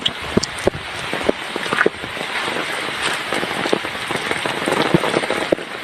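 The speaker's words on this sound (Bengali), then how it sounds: "এখনো বৃষ্টি পড়ছে" Steady rain patters down during flooding in Gopalganj, Bangladesh, with scattered louder drops striking a surface, a continuous wash of noise with no voices.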